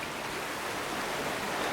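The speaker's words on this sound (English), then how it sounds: "This is the east branch of the 8-Mile River." The east branch of the 8-Mile River rushes along a wooded trail as a steady, even wash of flowing water, close and unbroken, with no voices.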